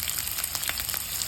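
Onion, curry leaves and green chili frying in oil for a paneer and eggplant curry, giving a steady close hiss with faint crackles throughout, no voices.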